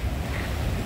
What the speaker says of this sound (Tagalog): Ay, ang ganda ng alon, no?